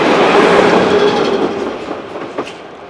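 A freight train on the JR Nagoya Port Line rolls past beside the Shinkansen tracks, a loud, close, steady rumble of wagons that gradually fades, with a faint squeal near the end.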